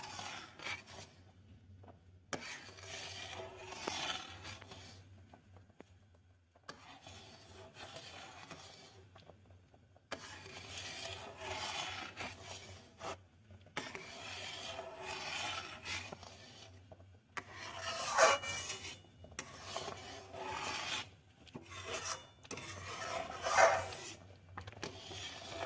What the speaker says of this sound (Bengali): ভালো করে নাড়তে হবে যতক্ষণ না ক্ষীরের মতন হয়ে আসছে।